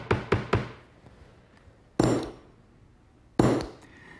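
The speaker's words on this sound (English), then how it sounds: "use the small punch and just hit each corner" A small metal punch is struck with a hammer at each corner of a tacked-down panel: three quick sharp hits close together, then two louder single blows after pauses, close and clear.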